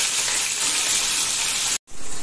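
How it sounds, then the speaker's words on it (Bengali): Sundarban crabs fry in a pan with turmeric and salt, producing a loud, continuous broad hissing sizzle that cuts out briefly near the end before resuming. "এটাকে আমি আস্তে আস্তে ফ্রাই করে নেব"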